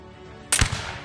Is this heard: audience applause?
no